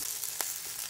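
Food sizzles in an iron pan at a campsite in Doi Mae Salong, Chiang Rai, giving a brief, steady, close hiss of hot oil with one small pop.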